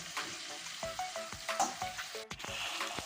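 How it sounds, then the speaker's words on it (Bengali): Chicken masala sizzles and fries in a pan for a spiced chicken kosha, with repeated stirring scrapes and clinks, close and steady throughout, with no talking. "আমি মাংসটা দেখুন কষিয়ে নিচ্ছি কত সুন্দর করে"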